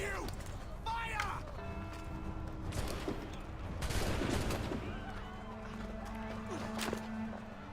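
Gunfire erupts in the video game Assassin's Creed III, sharp shots mixed with running footsteps and shouting voices, a busy battle scene with people talking over the commotion.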